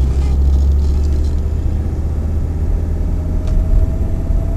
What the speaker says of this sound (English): if I get on it, you can hear that turbocharger kicking in